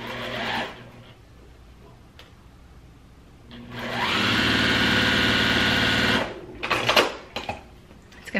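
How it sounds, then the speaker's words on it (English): A sewing machine stitches down a quarter-inch fold on a fabric face mask, a steady close whirring run of about two seconds after quieter handling sounds, followed by a few short bursts. "And just sew down."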